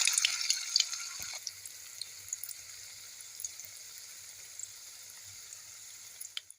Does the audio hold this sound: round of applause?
no